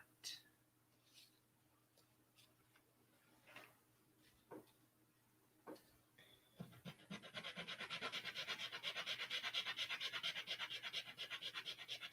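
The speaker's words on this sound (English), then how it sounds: "I just have a little piece of sandpaper here, and I'm just going to sand that flat." A small piece of sandpaper sands cured resin flat on a bead and resin spider: a few soft scrapes, then a steady, close, rapid run of rhythmic scratching strokes that keeps going to the end.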